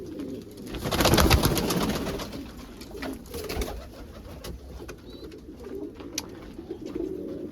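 Pet pigeons or doves coo softly at home on bath day, with a burst of splashing or fluttering early on and then scattered nearby calls over a steady background.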